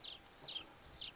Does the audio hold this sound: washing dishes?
no